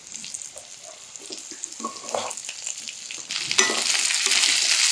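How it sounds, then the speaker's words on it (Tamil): Okra and onions frying in a pan for a Chettinad kulambu, a steady close sizzle that swells louder toward the end, with occasional stirring scrapes. "வெண்டைக்காய் ஓரளவுக்கு வதங்கணும்."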